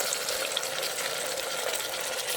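Mint, ginger and garlic frying in hot oil for mutton gravy, a loud, steady close-up sizzle and crackle that carries on unbroken with no talk.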